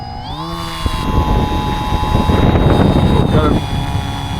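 FT Explorer RC model airplane's electric motor and propeller spool up under throttle, a steady loud whine rising in pitch and holding outdoors on a windy day above 10 mph, with wind rumble underneath.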